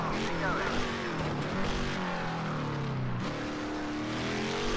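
Race car engine in a Daytona virtual racing game, a sustained, high-revving roar with rising and falling pitch as the throttle is opened up, with someone talking over it.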